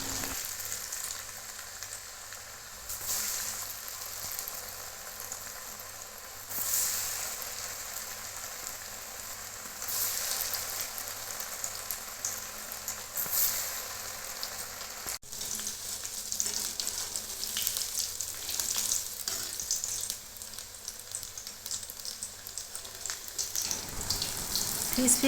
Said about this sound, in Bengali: এবার আমি ফিশ ফিঙ্গারগুলো তেলে ভেজে নেব।